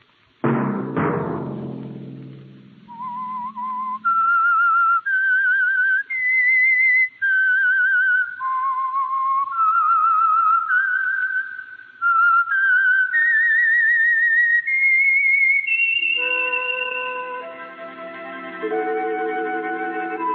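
A clear whistled melody of sustained, stepping notes, loud and alone, opening with a ringing strike and ending in a fuller musical chord; the theme of The Whistler radio program.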